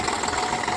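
Tractor engine running on a farm field, a steady mid-pitched drone with a faint knocking texture, close and continuous for under a second with no voices.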